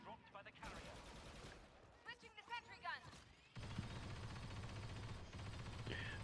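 Laser blaster fire from a heavy gun in the Star Wars shooter Battlefront 2 on PC: faint, rapid bursts of shots crackle at low volume, with a voice briefly audible partway through before a steadier stream of firing noise.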